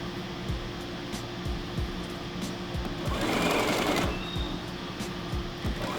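A sewing machine stitches a fabric face mask, humming steadily close by with regular needle ticks and a brief faster burst partway through, with no talking.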